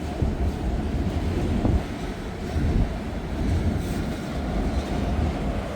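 Freight train rolling past on rails on a cold, windy morning in Hamilton, a steady rumbling clatter of wagons close by, mixed with heavy wind buffeting the microphone.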